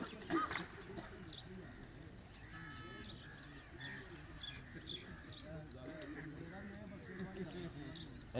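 Pigeons perched on a rooftop in Jhelum coo softly and intermittently under background voices and faint ambient noise.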